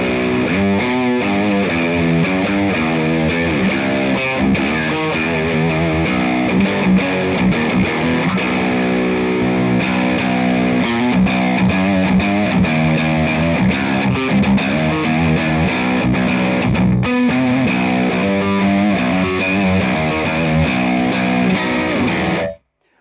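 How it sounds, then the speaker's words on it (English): A 7-string electric guitar played through a heavy distortion tone, with chugging riffs and sustained chords that ring out loud and continuous for over twenty seconds with no talking, then cutting off abruptly. "let's stick our big distortion tone back on"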